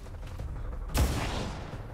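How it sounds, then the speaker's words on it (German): A single pistol gunshot in XCOM 2: War of the Chosen cracks sharply at about the one-second mark and then rolls off in a fading boom over quiet game ambience. "Pistolenschuss ist besser als gar kein Schuss."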